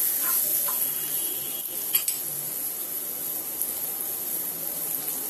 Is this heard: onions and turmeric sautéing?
yes